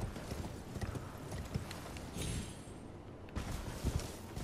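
Horse hooves clopping in the Elden Ring video game, a steady run of thuds during horseback platforming around Albinauric Village, moderately loud with no talk over them.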